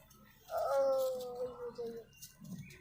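A puppy gives a drawn-out whining howl, close and fairly clear, followed by quieter rustling.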